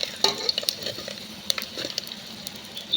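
Chopped onion fries in a pot over a rural wood-fired stove for village-style chicken, a steady close sizzle with irregular stirring scrapes and crackles running throughout, no talk.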